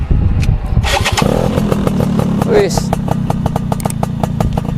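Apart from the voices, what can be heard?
Yamaha Sigma two-stroke motorcycle engine starting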